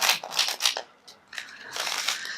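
Quick riffling and shuffling of tarot cards, crisp papery bursts with a short pause in the middle, close by.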